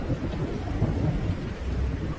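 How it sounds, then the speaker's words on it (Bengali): Heavy rain pours steadily with deep rumbling thunder, a sound effect in a Bengali horror audio story, loud and continuous with no voices over it. "বৃষ্টির বেগ বেড়েছে"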